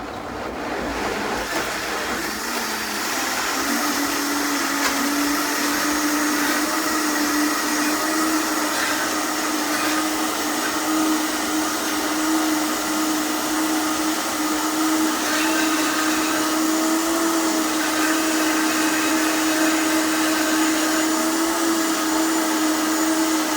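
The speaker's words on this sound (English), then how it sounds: "the banana peels in the blender. I'm gonna blend it." A high-powered blender runs continuously, grinding banana peels into a smoothie with a loud, steady whirring roar that holds throughout at close range, with no talking.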